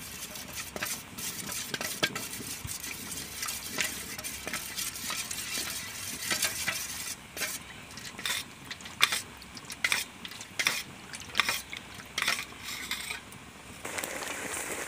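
Mango pulp cooked with cornflour stirred in a pan with a utensil, giving a steady close scraping and clinking against the metal with a soft bubbling sizzle underneath, continuous throughout with no talking.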